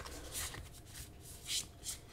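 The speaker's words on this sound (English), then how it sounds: "These cards are so hard to shuffle" Soft papery riffles and brief flutters of cards being shuffled close by, in a few quick bursts over a quiet background.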